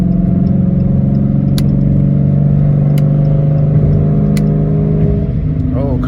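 A catless Dodge Challenger R/T accelerating through traffic, its V8 roaring loud and steady from inside the car, with a dense continuous drone and a slight shift near the end.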